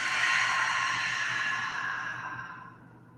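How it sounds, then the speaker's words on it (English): A long, slow, breathy exhale during a guided breathing exercise, loud and close at first and fading out over about three seconds. "Exhale."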